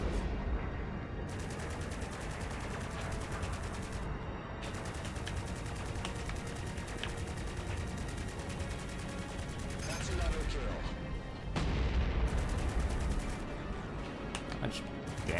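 Rapid gunfire from a space combat video game, bursts of shots running continuously with louder blasts near the end, partly under a speaking voice.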